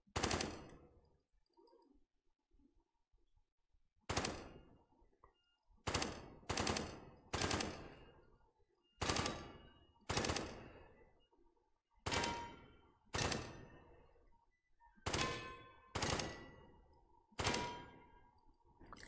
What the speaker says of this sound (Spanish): ahora sí que debéis seguir con la ametralladora